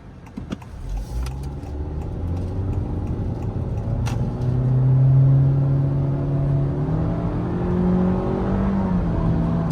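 Inside a moving 2022 Honda Civic Touring, the engine drones and rises in pitch as it accelerates under full throttle, with a steady road hum underneath.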